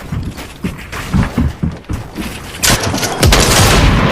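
Shotgun fire in an arena match of a shooting video game, a burst of repeated booming blasts and thumps crowding close together, loud and unbroken toward the end, with no talk over it.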